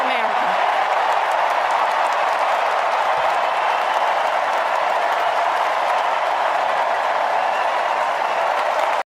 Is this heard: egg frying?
no